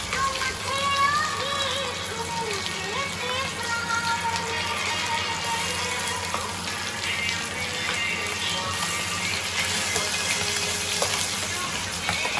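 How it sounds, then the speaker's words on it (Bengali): Fish belly pieces rubbed with turmeric and salt sizzling steadily in hot mustard oil, a dense continuous crackle and spatter held close up for the whole stretch, with no talking over it. "তো তেলটা গরম হয়ে গেছে, এবার দিয়ে দেবো মাছগুলো"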